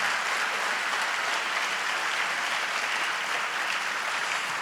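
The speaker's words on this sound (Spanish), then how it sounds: "Demos un fuerte aplauso." Strong continuous applause from a church congregation, a thick even roar of many people clapping for several seconds with no speech over it.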